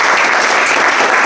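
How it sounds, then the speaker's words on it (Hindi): Audience applause at a business opportunity presentation, loud and dense with many hands clapping together in a continuous wash. "दीपल मैम, नीलेश सर के लिए जोरदार ताली होनी चाहिए"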